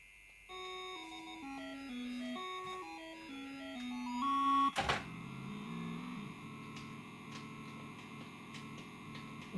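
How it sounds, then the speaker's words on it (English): Electronic bleeps and tonal game music from the 1983 racing arcade game Pole Position, with stepped melodic tones, a sharp burst near the middle, then a busier buzzing engine-like drone with steady beeps, loud and clear without talking. "Let's try Pole Position, which is another racing game, of course."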